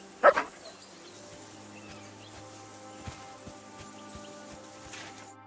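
In Kingdom Come Deliverance 2, a dog gives a couple of loud, close barks right at the start, then falls quiet under soft game music and ambient background sounds with faint knocks.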